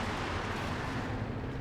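Continuous dense rumble of explosions and battlefield fire in the WWII strategy video game Company of Heroes 2, loud and steady with no clear gaps.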